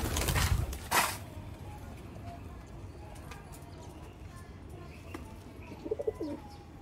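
A black-faced Sialkoti pigeon coos softly among other birds, with a brief low warbling coo near the end over a hissy outdoor background and a couple of louder bumps at the start.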